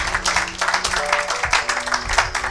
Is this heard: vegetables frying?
no